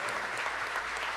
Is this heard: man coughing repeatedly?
no